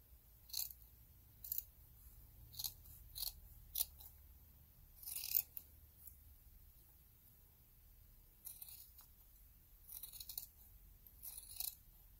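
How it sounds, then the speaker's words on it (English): Scissors cut pinned wool fabric along drawn pattern lines: separate crisp snips, roughly ten in uneven bursts with pauses between, close and fairly quiet over a soft low hum. "you want to pin it well so that the wool doesn't shift on you, and cut it out"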